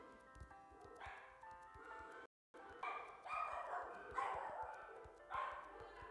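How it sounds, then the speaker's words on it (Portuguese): Pet dogs bark at home while a piano tiles game plays, with several sharp yips and barks coming through beside tinkling game piano notes. "Vocês devem estar ouvindo os cachorros latir"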